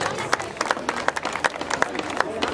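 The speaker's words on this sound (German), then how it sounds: "Ja, Applaus." Audience applause at a Santa Claus skate contest at a Wermelskirchen skatepark, with scattered sharp claps over a steady crowd murmur, moderately distant and continuous.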